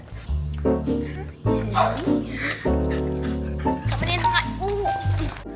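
Small, cute dogs being let inside a house, with several short yips and barks close by while people talk over them.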